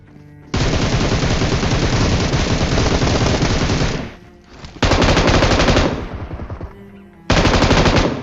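Loud, close automatic gunfire in PUBG Mobile, fired from a moving vehicle: a long sustained burst, a brief pause, a second burst, then a final burst, with no speech.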